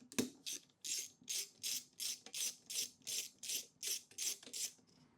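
A ratchet with an 8mm socket turns a nut off the air filter backing plate of a Honda blower. After a single knock it gives about a dozen evenly spaced, crisp rasping clicks, close up and quiet.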